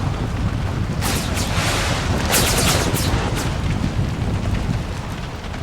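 Cannon and musket fire in the American Civil War game ACW Mod: a dense, roaring wall of battle noise with repeated booming blasts and crackling volleys, loud and continuous throughout.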